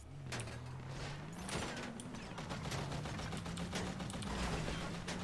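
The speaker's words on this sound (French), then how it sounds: "Mais pourquoi il me tire dessus?" Gunfire in the role-play game GTA RP: a run of sharp, scattered shots cracks out over several seconds, laid over a steady droning tone that wavers in pitch throughout.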